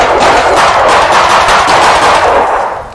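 Continuous automatic gunfire in the horror game Feed Me Billy as a camp is shot up, a loud, dense unbroken rattle that fills the whole stretch before tapering off at the end.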